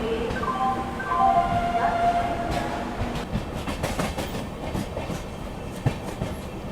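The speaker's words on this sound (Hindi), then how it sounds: "दानापुर से अभी अपनी ट्रेन यहाँ पे निकल चुके हैं" The Delhi–Patna AC Special train pulls out of Danapur, heard from on board as a steady rumble with rhythmic clickety-clack of wheels over rail joints and a faint squeal, while a voice talks softly underneath.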